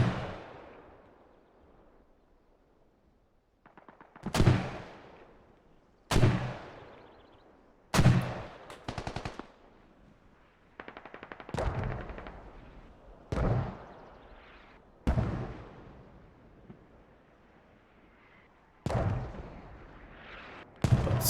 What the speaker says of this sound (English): Mortars coming in from northwest.